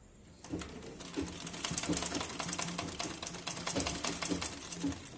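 Sewing machine stitching a fall onto a chiffon saree, starting after a brief quiet moment and then running in a steady rapid whir with rhythmic needle clatter, close and alone.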